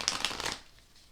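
A deck of tarot cards being shuffled by hand, a close, crisp riffling flutter lasting about half a second before trailing off into quiet room tone.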